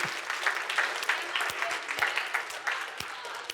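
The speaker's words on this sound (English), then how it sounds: "Let's give Megan a round of applause." An indoor summit audience claps for a woman named Megan, a dense, steady round of applause from many hands that holds at an even level throughout.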